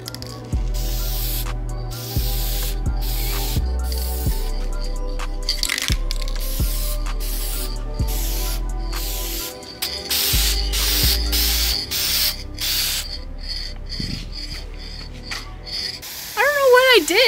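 An aerosol can of primer hisses onto a Miata spoiler in repeated close bursts of spray, stopping and starting in short rhythmic passes, with a low hum underneath and a brief voice near the end.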